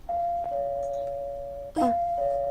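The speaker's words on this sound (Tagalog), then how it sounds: "Kinsa makarong nag-doorbell?" A doorbell chimes twice, a steady electronic tone followed by a second ring, in a quiet room.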